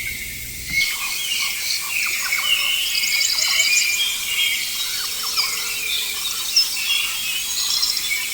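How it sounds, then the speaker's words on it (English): A yellow-throated toucan calls in Costa Rican forest, giving repeated squeaky, chattering notes at moderate distance over a constant hiss of insects. "The yellow-throated toucan is a large bird with an oversized bill."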